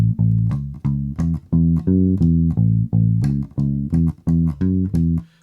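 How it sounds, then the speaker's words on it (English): Electric bass plays the repeating arpeggio bass line of a blues song, a steady run of plucked notes in a bouncing rhythm, close and loud with no voices. "So there are places in the song where the arpeggio on the bass sounds like this."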